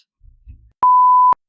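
A phone chimes once for an incoming text message: a single clean, steady electronic beep of about half a second, preceded by a faint low rumble in an otherwise quiet room.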